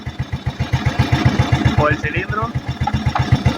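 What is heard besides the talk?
Italika FT150 motorcycle engine idling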